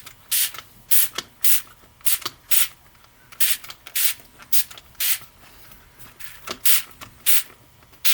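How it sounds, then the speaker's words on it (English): Repeated short hissing bursts of Windex glass cleaner from a pump spray bottle, applied to a model ship, come in an uneven rhythm of about a dozen close, fairly loud squirts with brief pauses between them. "I wonder if I was to just spray Windex on here"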